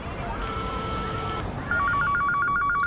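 A telephone rings in a repeating electronic trill, loud and close, with each burst evenly spaced; it follows a few seconds of steady room noise, with no talk over it.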